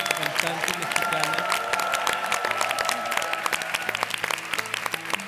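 A studio audience at a televised blind-audition singing competition claps loudly and continuously, a dense wash of applause with music playing underneath.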